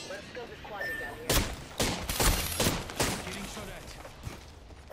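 Bursts of gunfire in the battle royale video game Apex Legends, ranked Season 16, several loud sharp volleys clustered in the middle, with a voice talking under and between the shots.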